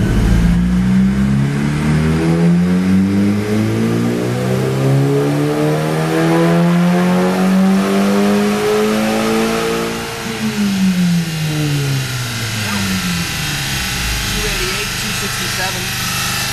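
Turbocharged car engine on a dyno during a boost test, revving in a long steady climb that peaks and then drops away, loud and close throughout with voices talking faintly underneath.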